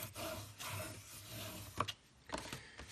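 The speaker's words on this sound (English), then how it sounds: "then we're just going to burnish that down a little bit too" Paper being burnished down over a template for a papercraft project, a soft close rubbing and scraping with a couple of small taps, faint and steady.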